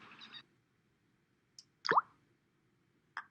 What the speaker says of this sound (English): The coin sank, and it made the water go up a little.